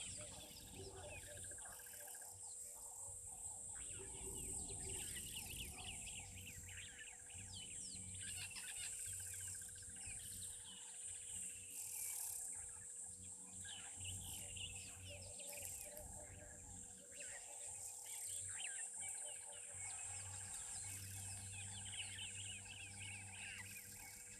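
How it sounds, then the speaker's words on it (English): Continuous, repetitive calling of a crested barbet at a wild waterhole, a steady trilling bird voice running throughout amid a dense background of insect and other bird sounds, with no one speaking over it. "you hear the continuous call there of a crested barbet"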